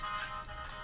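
A mobile phone rings with a repeating electronic ringtone, its high warbling tones rising and falling at moderate, fairly steady loudness with no talk over it.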